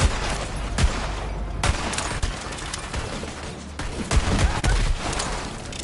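Dense, loud gunfire in Borderlands 3 on PS5, a steady stream of rapid close shots with a few sharper cracks standing out, running without pause for several seconds.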